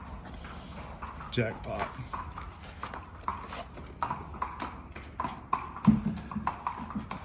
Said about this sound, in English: The horses, he's leading them back into their stalls.